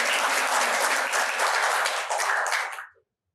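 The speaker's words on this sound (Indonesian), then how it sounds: "Tepuk tanganlah yang meriah" A seated audience bursts into lively applause, dense and loud clapping that holds steady for nearly three seconds before fading out quickly into silence.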